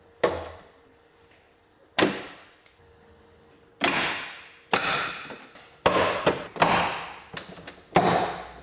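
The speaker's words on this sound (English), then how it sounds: "Now I will remove this trim." Plastic retaining clips on an Audi A3 tailgate trim panel pop loose as it is pried off: a series of sharp, close snaps, spaced apart at first and then coming faster, with quiet gaps between.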